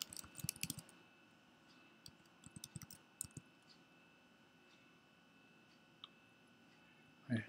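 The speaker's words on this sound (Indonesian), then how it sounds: "Ketikkan alamat emailnya." Soft bursts of key presses on a computer keyboard as an email address is typed, quiet clicks clustered in short runs with pauses between them and a louder knock near the end.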